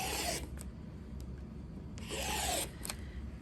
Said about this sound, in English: Your rotary cutter fits right down inside the slot without any problems at all.